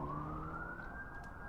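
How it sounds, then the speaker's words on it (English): Sirens wail in a long steady rising tone, carrying over a low rumbling traffic bed and sounding fairly distant, with no voices. "I hear the distant sound of sirens"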